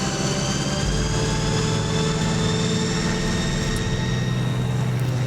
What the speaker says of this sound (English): we now have our propeller going